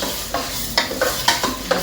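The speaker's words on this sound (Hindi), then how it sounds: "अब ये देखो यहाँ पे लग गया तड़का।" A tadka tempering sizzles in a pan for khichdi, a steady frying hiss broken by several sharp stirring scrapes, close and moderately loud with no talking.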